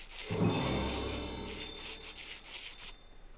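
Sandpaper rubbing across rose quartz in Minecraft, a short scraping rasp that swells in the first second, then thins to a softer grainy rub with faint tinkles, close and alone.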